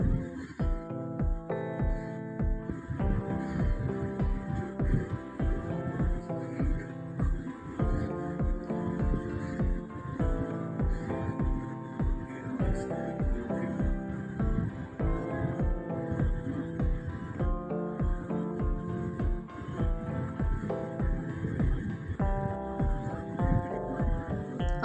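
A sewing machine stitches fabric for a baby girl's frock with lace. Close, rhythmic mechanical throbbing comes in repeated runs separated by short pauses, with no one speaking.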